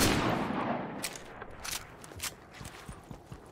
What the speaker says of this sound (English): they're shooting each other right now